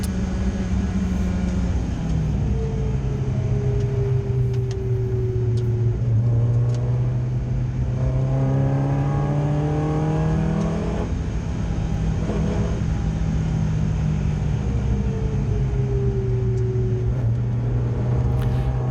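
Ford Puma race cars drone along the Oulton Park circuit before a BRSCC Clubsport Trophy start, engines loud and sustained from inside the cockpit, pitch rising and falling through gear changes with other cars nearby.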